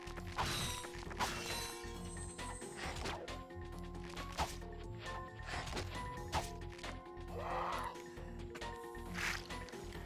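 Wrench melee combat in the Ratchet & Clank video game: repeated metallic whacks and clanks against enemies over a busy mechanical game soundscape, with faint talk in the background.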